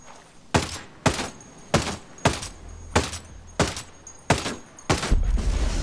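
Gunfire in Ghost Recon Breakpoint aimed at an enemy turret: eight loud, evenly spaced heavy shots roughly half a second apart, each a sharp crack with a booming tail, the last running into a rumbling burst.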